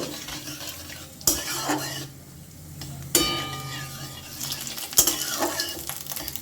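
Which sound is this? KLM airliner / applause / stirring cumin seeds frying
stirring cumin seeds frying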